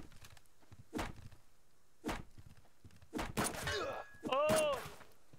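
Gunshots fired through a wooden wall in the Subsistence survival game: four sharp, distinct cracks spaced about a second apart, the last ones followed by ringing metallic debris and tonal clatter.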